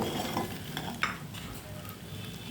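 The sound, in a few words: stirring ramen with egg in a pan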